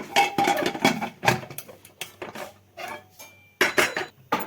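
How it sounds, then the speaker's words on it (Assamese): Metal tiffin box set down inside a pressure cooker and the lid fitted on, a series of sharp clanks and rattles of metal on metal, close by with short pauses between knocks. "তাৰপৰা ইয়াত ঢাকনিখন লগাই দিম।"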